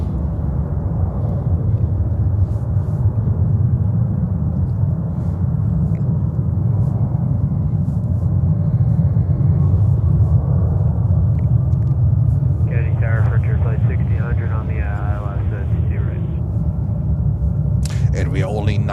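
An airliner departs from runway 31L at JFK, a steady, broad low rumble that holds through the whole stretch, with a short burst of higher hiss toward the end.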